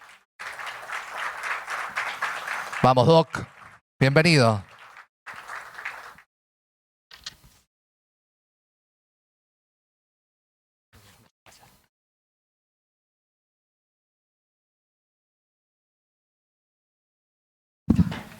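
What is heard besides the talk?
audience applause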